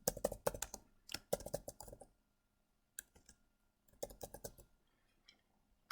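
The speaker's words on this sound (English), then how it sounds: "I can backspace and type in what I want." Quiet computer keyboard typing comes in several bursts of rapid clicks and taps, separated by short pauses and near silence.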